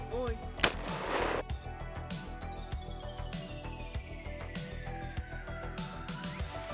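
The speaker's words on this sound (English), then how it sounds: "a 308 P80 round from our 21-inch FAL" A .308 P80 round fired from a 21-inch FAL rifle at Russian 6B23 body armor: one sharp, loud report rings out near the start, followed by a long decaying ringing tone.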